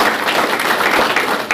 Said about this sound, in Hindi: और सभी के लिए एक बार जोरदार तालियां आ जाए